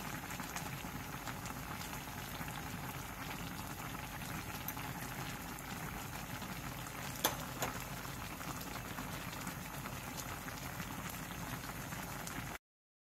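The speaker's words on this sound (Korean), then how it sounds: "물이 끓어오르면 중약불로 줄여 10분 정도 더 끓여주세요." Korean jeon stew simmers in a pot with chili and green onion, a constant bubbling and popping hiss, fairly quiet and close, with no talking.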